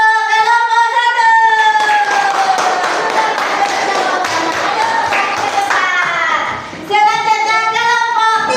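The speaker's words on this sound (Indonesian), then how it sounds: "Tepuk tangan untuk kelompok 1." Classroom applause for a student group: a burst of clapping from many hands in a room, several seconds of dense patter running under a sustained musical tone, fading briefly before the tone returns.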